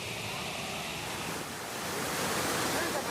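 Steady, broad rushing of the Maranatty waterfall near Attapadi, Kerala, heard close and loud with no break, swelling slightly toward the end.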